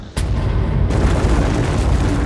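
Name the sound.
supernova explosion sound effect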